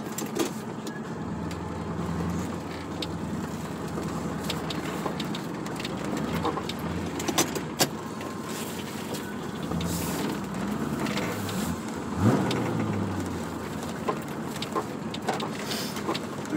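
A Corvette C4 being road-tested with a brake bias spring, driving through a park over speed bumps; a steady low engine and road drone runs throughout with a few brief knocks and bumps.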